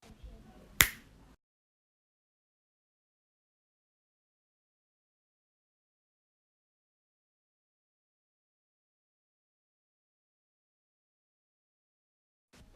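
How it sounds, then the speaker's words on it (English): A single crisp finger snap close up near the start, then total silence for the rest. "And with this snap, I will make everyone here applaud."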